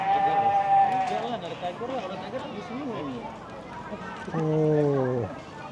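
A Priangan sheep bleats at an aviary park, with several wavering bleats near the start and one loud, drawn-out bleat near the end. People talk over the sounds throughout.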